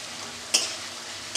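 Spices frying in oil in a pan for an egg curry, a soft sizzle with two quick sharp scrapes of a spoon stirring.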